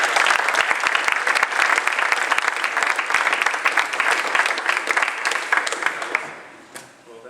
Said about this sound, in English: Let's give a round of applause to Dave.